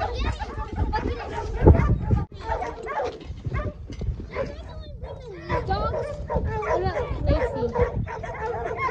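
Several dogs at a ranch roping outing give short yips and bow-wow barks, with someone talking over them throughout.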